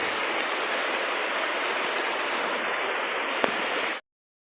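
Heavy rain falls around a rooftop terrace, a dense, even rushing roar that stays constant and close before cutting off abruptly near the end.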